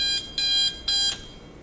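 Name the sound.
RCA RCD20 electric digital alarm clock alarm ringing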